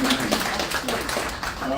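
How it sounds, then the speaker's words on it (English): Audience at a Kensington community event applauding a speaker, Ms. Brianna, with a short spell of scattered clapping from a mid-sized crowd, partly under a voice talking. "Give her a round of applause."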